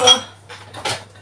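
Dishes and cutlery clink and clatter as they are loaded into a dishwasher at home, a few short close metallic knocks and rattles over a low steady hum.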